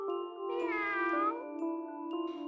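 A cat meows once, a clear drawn-out cry standing out over a steady background hum with faint tinkling, set in a comic retelling of the Nasreddin Hodja tale about a cat that ate the meat.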